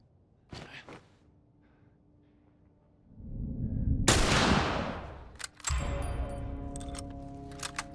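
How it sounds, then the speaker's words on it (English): A single sharp hunting rifle shot cracks in The Last of Us, set inside the Capitol Building, followed by a lingering echoing tail and rumbling ambience. "He's probably going to go inspect where the sound came from, the gunshot."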